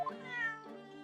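A cat in the video game Great Ace Attorney Chronicles gives a single clear, drawn-out meow, close and alone.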